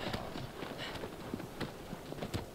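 Hooves clip-clop in a fast uneven rhythm as a horse gallops in the video game Shadow of the Colossus, moderately loud with a busy rumbling game background.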